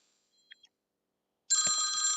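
A telephone suddenly starts ringing after a quiet pause, with a bright electronic ring that is loud and close and continues to the end.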